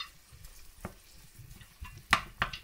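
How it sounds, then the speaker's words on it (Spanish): Wooden spoon stirring minced meat frying with chopped garlic in a pan for stuffed aubergines, faint scraping strokes over a soft sizzle, with a few sharper clacks near the end. "Separando muy bien la carne picada con una cuchara de palo"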